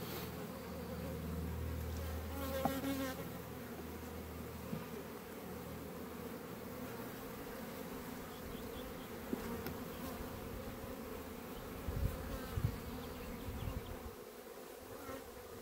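Honeybees buzz around an open hive during a check for queen cells, a dense continuous hum with close fly-bys passing near and a few faint handling knocks.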